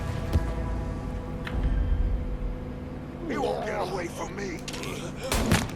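Gunfire in the video game Mafia 3: a few sharp, loud shots ring out early over steady game background noise, followed later by a burst of louder action, with people talking in Thai throughout.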